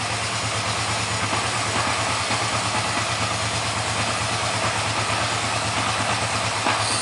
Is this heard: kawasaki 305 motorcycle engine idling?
yes